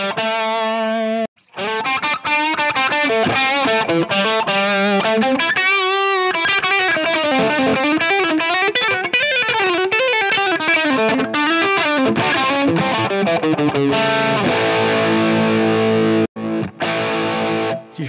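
Electric guitar through a Line 6 Helix patch with heavy compression, a distorted, chorus-tinged tone playing a busy melodic line with squashed, even dynamics, brief pauses and a sustained chordal passage near the end, no talking.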